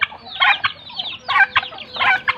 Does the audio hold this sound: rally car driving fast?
no